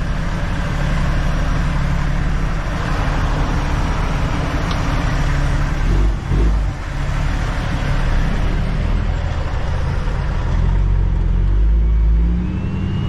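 Semi truck pulling away with its trailer on the highway, a steady loud low engine rumble with road noise, a brief dip then the engine pulling again.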